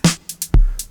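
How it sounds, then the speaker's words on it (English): A deep, booming 808 kick drum hits once with a low sustained tail, surrounded by short crisp hi-hat ticks in a quick drum-machine pattern. "my kick drums is an 808 kick"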